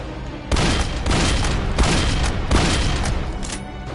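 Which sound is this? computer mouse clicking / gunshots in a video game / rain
gunshots in a video game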